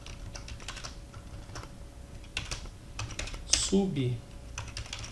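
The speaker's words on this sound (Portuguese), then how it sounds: "então vamos digitar aqui" Close keystrokes clatter on a computer keyboard in irregular bursts while a database lesson is typed, with a few louder clicks and some speech partly over the tapping.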